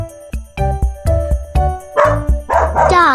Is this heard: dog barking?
yes